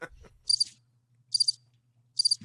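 Cricket chirps played as a soundboard effect come in three evenly spaced short bursts of high, rapid trills, each standing alone against near silence after a brief low murmur at the start.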